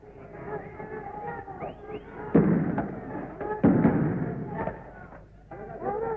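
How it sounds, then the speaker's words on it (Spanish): During the 1969 Cordobazo riots in Córdoba, Argentina, police fire tear gas: two dull, muffled launcher thumps a second apart, far off beneath a crowd of students talking and shouting. "Se escuchan disparos de gases lacrimógenos."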